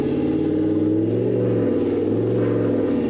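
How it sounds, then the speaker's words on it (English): A Toyota Land Cruiser 79 Series with an 8-speed automatic conversion revs steadily while holding a gear, producing a loud, continuous mid-pitched engine drone with rising and falling pitch and no talk over it. "So we'll just see how the engine reacts with the default calibration. It should rev it out a lot more."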